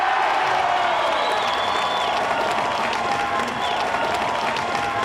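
A crowd at an obstacle-course competition cheers and applauds a woman competitor, a loud, sustained roar of clapping with occasional whistles that carries on without pause.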